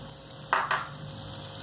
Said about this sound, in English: To this, first we are going to add the carrots